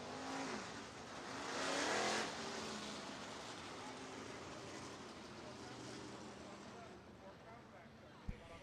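Stock cars racing in a heat at Stuart International Speedway, a dirt oval in Iowa, their engines a broad, steady roar that swells and fades as the pack passes, with an announcer talking over it.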